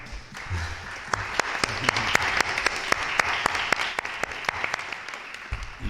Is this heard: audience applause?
yes